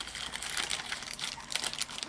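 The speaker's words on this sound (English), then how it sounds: "Get the plastic bag sealed shut." Crinkling, rustling plastic as a bag holding a rinsed silicone mask is pressed and sealed shut, a steady close scrunching texture with small crackles throughout.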